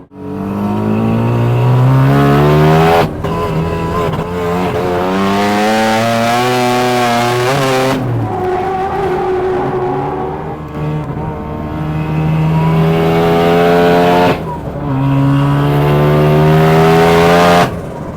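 A drift car at a D1 regional Central round at Mobara Twin Circuit revs hard at full throttle, engine screaming in long rising and falling pulls, with brief lifts between them, loud and close.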